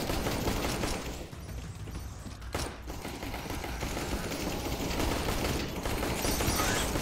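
In a CS:GO zombies match, dense continuous gunfire and turret shooting form a loud, unbroken wall of noise with rapid overlapping shots.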